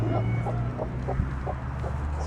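Chickens cluck in a series of short, evenly spaced calls over a steady low hum, fairly close and moderately loud, around a feeding spot scattered with leftover food, caribou ribs and fish heads.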